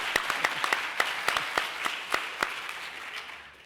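Clapping from an audience at a high school awards celebration, a moderate wash of applause with distinct sharp claps near the listener, tapering off over a few seconds.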